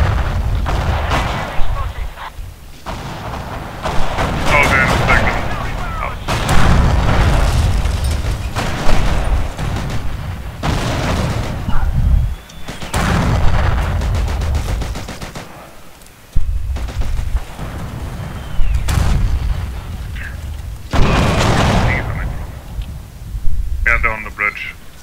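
Mortar rounds and gunfire crack and boom in a Forgotten Hope 2 battle at Pegasus Bridge, a dense run of loud blasts and shots repeating across the whole stretch under near-constant voice chatter.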